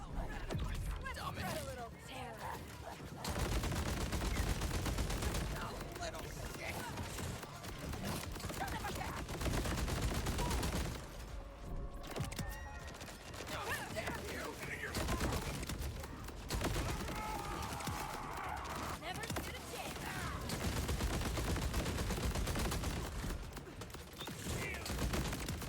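In a Voraxis boss fight, the Darkbeast Daedalus SMG, a video game weapon with two ammo types, fires in dense, rapid bursts almost without pause, loud and continuous with brief lulls, mixed with other game sounds.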